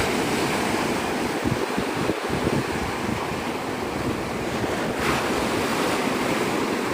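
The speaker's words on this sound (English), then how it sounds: "The wind is really starting to kick, though." Strong wind buffets the microphone while surf rolls continuously at Navarre Beach, a loud, steady roar of breaking waves and gusts with no break.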